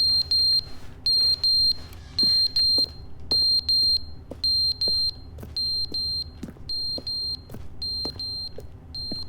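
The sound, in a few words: smoke detector beeping in a video game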